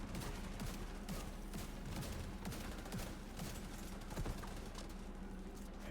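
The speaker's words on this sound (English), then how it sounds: "Watch out for the mortars, they're constant." Repeated mortar and gunfire blasts in The Division 2, dense overlapping explosive thuds and cracks over a constant loud battle rumble, with no one talking.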